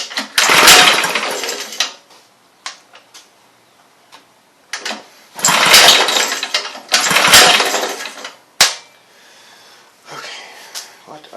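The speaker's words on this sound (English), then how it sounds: "Let's pull it a couple times without the choke on." Someone pull-starts a 5 HP Briggs and Stratton engine with the choke off: several loud rasping recoil pulls of the cord, separated by quieter gaps with small clicks and handling noises.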